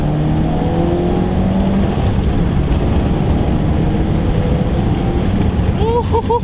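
A 2013 Ford Focus ST with an inline-four turbo engine pulls hard under acceleration, its loud, steady engine drone rising in pitch alongside heavy road and wind noise, with a voice talking briefly over it.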